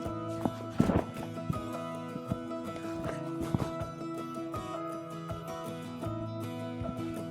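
A ridden horse's hooves clip-clop in a slow, uneven rhythm of soft thuds over a steady background hum. No talking is heard.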